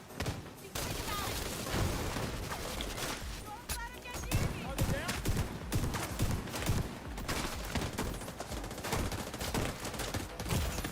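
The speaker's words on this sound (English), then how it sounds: "What's over there that's shooting at me?" Gunfire in The Division 2, a rapid barrage of close shots and bursts with a heavy munitions enemy firing, dense and continuous under a voice talking.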